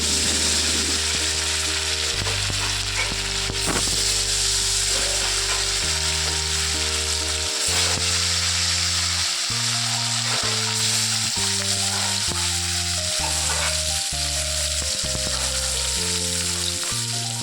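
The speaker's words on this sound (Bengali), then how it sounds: "মাছগুলোকে এপিট ওপিট করে সুন্দরভাবে প্রথমে ভেজে নিচ্ছি।" Pieces of katla fish frying in mustard oil, a dense close sizzle running steadily throughout while background music plays over it.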